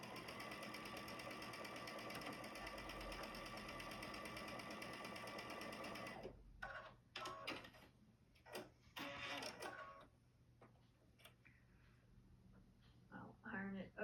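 A sewing machine stitches fabric pieces together in a steady, continuous whirring hum for about six seconds, then stops, leaving faint handling clicks and rustles.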